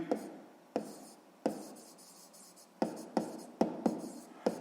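Pen or pencil writing by hand on paper while working a sixth-grade maths exercise: a series of close, sharp scratching strokes and taps in irregular bursts, with a faint voice now and then.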